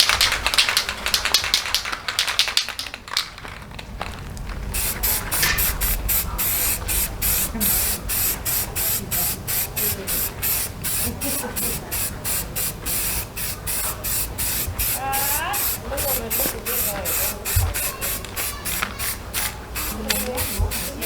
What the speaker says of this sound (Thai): เดี๋ยวเราไปพ่นสี รอบสองกันเลยดีกว่านะครับ